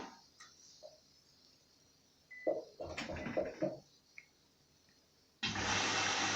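A Bosch Serie 6 washing machine starting a 40° easy-care wash, with a few soft beeps and clicks, a brief mechanical whir, then a sudden steady rush of water filling the drum, close and continuous.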